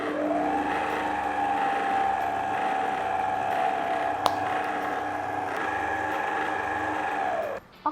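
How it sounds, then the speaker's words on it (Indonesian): An electric mixer at its lowest speed blends pandan cheese sponge cake batter, a steady close motor whine holding for about seven seconds before cutting off with a small knock. "Cuman biar lebih cepat kita mixer dengan kecepatan paling rendah ya"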